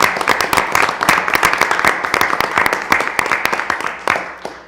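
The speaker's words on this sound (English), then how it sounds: "I would suggest we give them a round of applause." At a town board meeting, the audience gives public works staff a round of applause: steady, moderately close clapping from a room of people that fades slightly at the end.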